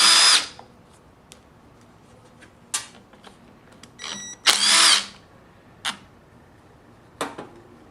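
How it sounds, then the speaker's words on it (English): A power driver whirs in short bursts backing out two 8mm screws from the carburetor of a Stihl FS55 trimmer, with loud high whines separated by quiet gaps and small clicks, close up and with no speech. "inside you will notice two 8mm screws. And we'll remove those."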